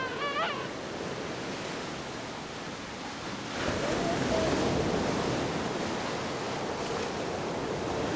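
Ocean surf breaks on a beach in a broad, continuous wash of noise that swells noticeably louder partway through and stays rushing to the end.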